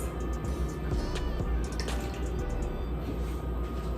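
Hot water poured from a kettle into a bowl holding a bamboo matcha whisk to soften it, a steady close splashing and trickling pour with small drips, no talking.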